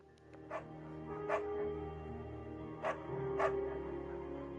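Dog barking in the video game Firewatch: four short, separate barks spaced about a second apart, moderately loud over a steady low background hum, with no talk.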